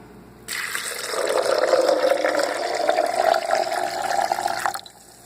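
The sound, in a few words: water poured into blender with soybeans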